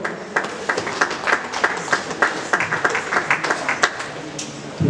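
A church congregation at a vows exchange service bursts into sustained applause, many hands clapping in a dense, uneven patter that fills the hall, with a few voices faintly audible beneath.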